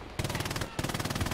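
Rapid bursts of World War II machine gun fire ring out in Hell Let Loose, two sustained strings of evenly spaced, sharp shots, fairly close and loud with a short gap between them.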